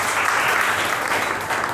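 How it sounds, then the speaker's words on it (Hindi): Audience clapping during a talk on public speaking, a dense steady wash of hands at close range that fills the whole moment without a pause. "ताली बजाओ ना"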